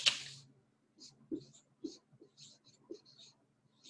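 A marker or pen writes by hand on a board during a classroom lesson, a few short scratchy strokes spaced out and faint, with a quiet voice murmuring between them.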